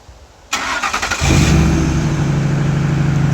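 A 2004 Ford F-150 engine started by a Viper two-way remote start: a brief whirring crank of the starter, then the engine catches and settles into a steady, loud idle close by, with no talk.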